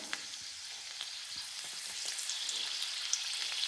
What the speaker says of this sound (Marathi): त्यानंतर बारीक चिरलेला लसूण 2 ते 3 पाकळ्या त्याच्यात टाकून घ्यायचा